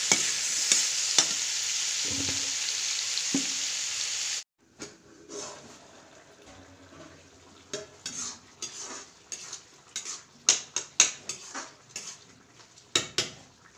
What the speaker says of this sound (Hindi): मैं सब्ज़ी अभी बना रही हूँ, आलू और बैगन और मूली का सब्ज़ी था